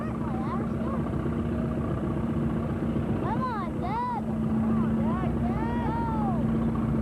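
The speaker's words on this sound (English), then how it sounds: "2236 McCormick Deering, 22 horsepower, steel all the way around." An old McCormick Deering 22-36 tractor with a 22-horsepower engine and all-steel wheels drones steadily at an outdoor heritage show, its low, even hum running throughout while higher chirping tones and faint voices come and go above it.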